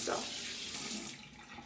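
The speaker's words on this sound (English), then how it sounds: "I'm going to get my water warm and splash the water on my face" Warm water running from a bathroom tap into a sink for splashing the face: a steady, fairly loud gush is heard close by and lasts the whole brief moment, with no talking over it.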